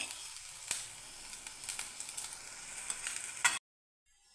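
Cooled rice tipped into a jaggery and coconut mixture in a hot wok makes a soft sizzle with scattered clinks and scrapes, then cuts off abruptly.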